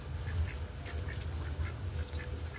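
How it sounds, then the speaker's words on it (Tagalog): Ducks at night near a hotel: several soft, repeated quacks in an irregular rhythm, fairly faint against a steady background noise, with no talk. "Ayan guys, may mga bibi dito."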